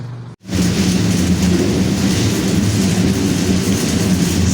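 A train passes close by, with a loud, steady rumbling roar that starts abruptly after a brief gap and holds at full strength throughout, with no voices.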